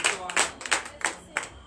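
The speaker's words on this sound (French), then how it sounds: "Donne l'acclamation à Jésus." Congregation in a church service clapping in loose rhythmic bursts during a night of deliverance, close and lively, with some voices mixed among the claps.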